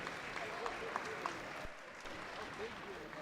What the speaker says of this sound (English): How about a nice round of applause, because without them we're not playing this evening